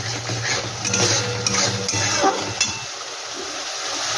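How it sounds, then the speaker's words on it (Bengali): Frying and stirring in ghee in a pan with potatoes and rice for a Bengali muri ghonto, soft sizzling under scraping and clinking of a utensil against the pan, the scraping fading out toward the end. "এই ঘিটা দিয়ে একটু কষিয়ে নেব।"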